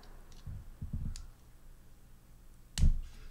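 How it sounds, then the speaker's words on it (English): Sharp clicks and rattles from inside a toy blaster's mechanism: a few quick bursts early, then one louder, closer click near the end, with quiet gaps between. "there's some serious clicking going on in there"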